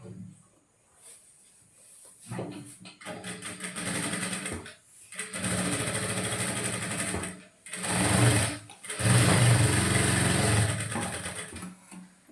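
A sewing machine stitches a blouse in several bursts of fast, rattling, close-up whirring, separated by short pauses.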